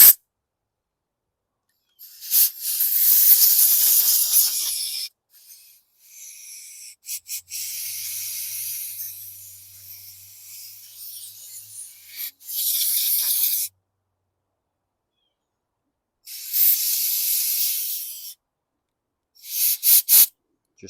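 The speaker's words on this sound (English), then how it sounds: "Just some low volume compressed air through here." Compressed air hisses through the carburetor of a Honda GCV160 engine on a 2016 Troy-Bilt TB130XP lawn mower in several sharp bursts of varying length, separated by silent gaps.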